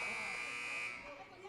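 A basketball halftime buzzer at a Chicago Fury versus Cleveland Blazers game sounds as a loud, steady electronic drone for about a second, then cuts off into crowd and arena noise.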